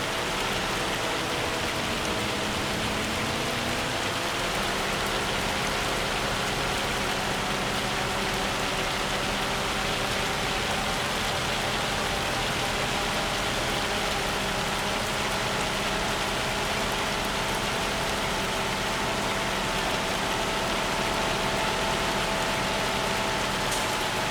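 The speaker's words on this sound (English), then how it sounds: "It's raining now" Steady rain hisses across the whole clip, a dense broadband patter with a faint hum beneath, no voices.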